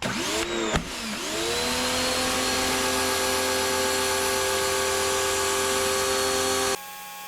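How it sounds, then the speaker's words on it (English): Electric pressure washer motor running steadily, spraying a garage floor through a 40-degree nozzle, with a loud continuous whine that starts up near the beginning and cuts off at the very end. "got the electric pressure washer out"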